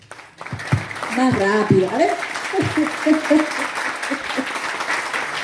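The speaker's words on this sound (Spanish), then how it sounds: "Ahora sí necesito de sus aplausos." An audience at an Indigenous women's gathering breaks into steady applause, clapping continuously while a voice speaks over it through amplification.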